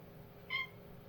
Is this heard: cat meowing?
yes